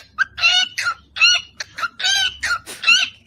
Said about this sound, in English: This is a parrot.